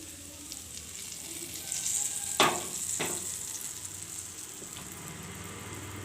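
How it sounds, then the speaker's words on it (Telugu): Hot oil is poured into a mixture of two flours and salt, giving a soft continuous sizzle with a couple of sharp crackling bursts midway, close by and without talk. "ఇప్పుడు కొంచెం చిటుకుడు ఉప్పు వేస్తున్నాను తర్వాత వేడి నూనె వేస్తున్నానండి"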